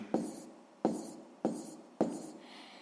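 Pen strokes on paper as numbers are written by hand for a sixth-grade math exercise, four short scratchy bursts spaced evenly and heard close up in a quiet room.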